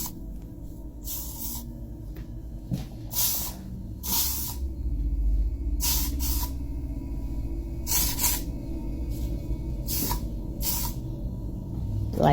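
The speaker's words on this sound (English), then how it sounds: "I wiped them and now I'm Lysoling them." Lysol disinfectant spray hissing in a kitchen, several short separate bursts at irregular intervals over a low, steady room rumble.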